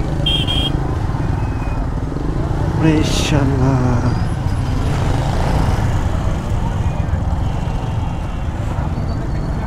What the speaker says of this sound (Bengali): বকুলতলা মোড়ে জ্যাম লাগে গেছে।